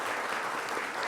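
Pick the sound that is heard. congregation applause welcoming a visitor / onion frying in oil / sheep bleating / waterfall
congregation applause welcoming a visitor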